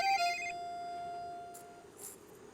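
A phone ringtone plays a short electronic melody, fairly quiet and alone, fading out within a couple of seconds.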